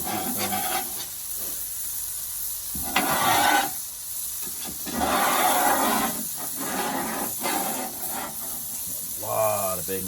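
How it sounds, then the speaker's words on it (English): A metal scraper rasps and hisses across a Blackstone flat-top griddle, pushing bacon grease aside in several long strokes with pauses between, close and fairly loud, with a voice briefly over the end. "Gonna get some of this grease cleared off here."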